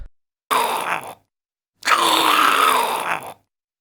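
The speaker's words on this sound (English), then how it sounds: "this is the first result on YouTube when I type free zombie FX sound" Two drawn-out, raspy zombie-style groans, a short one followed by a longer, louder moan, with silence between.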